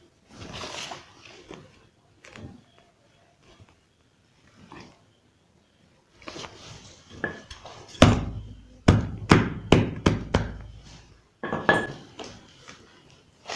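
Buttons being hammered tightly onto a basket: a run of sharp, loud metallic knocks in steady rhythm after quieter handling noises, up close.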